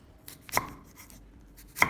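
A knife thinly slices fresh ginger on a board, giving two crisp, close, separate cuts about a second apart, each with a short bright click. Quiet faint handling noises fill the gaps between them.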